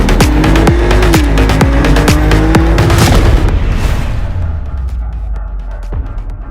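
A Ferrari with a 3.9-liter twin-turbo V8 drives by loudly, a rising engine tone cut by sharp cracks and pops, then fading into a quieter rumble.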